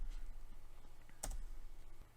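Typing on a computer keyboard at a desk: quiet, scattered key clicks with one sharper keystroke partway through, no speech.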